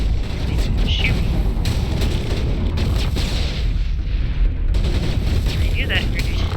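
Continuous gunfire and explosions fill a firefight in the Mass Effect 1 video game, loud and dense throughout, with sharp shots cracking over a rumbling battle bed while a player talks over it.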